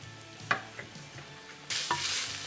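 Coconut and finely cut tomato being sautéed in a clay pot for fish gravy: soft scraping stirs over a quiet background, then a louder, steady sizzle rises near the end, close and with no voices.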